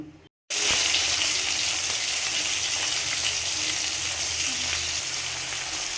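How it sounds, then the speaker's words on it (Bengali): Fish dropped into smoking-hot oil, bursting into a loud, steady close sizzle after a brief silence, continuing with a few faint spits and no voices. "তেল গরম হয়ে গেছে পুরো ধোয়া উঠে গেছে তো চলো মাছগুলো ভাজা করে নিই"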